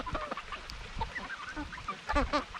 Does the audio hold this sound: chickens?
yes